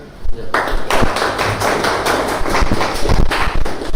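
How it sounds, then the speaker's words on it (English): Audience at a culture-in-the-digital-age event clapping for the organizers, close, uneven claps starting after a brief pause and continuing with sharp individual hits and a faint voice underneath. "Maybe an applause for them."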